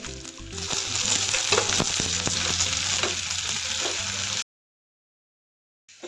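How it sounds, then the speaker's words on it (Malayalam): Shallots, dried red chillies and curry leaves sizzle and crackle steadily in hot oil in a pan, with occasional stirring, close and fairly loud before cutting to silence. "ഉള്ളിയെല്ലാം നല്ലപോലെ വഴന്ന് വന്നിട്ടുണ്ട്"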